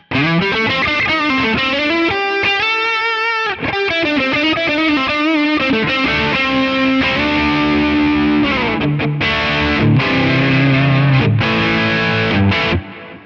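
A heavily distorted electric guitar through a high-gain amp setting on a Cortex plays chords and riffs, thick saturated crunch with sustained notes, loud and close, no voices.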